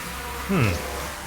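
A swarm of bees in the video game Sunless Skies swells briefly into a loud, rising-and-falling buzz over a quieter background hum.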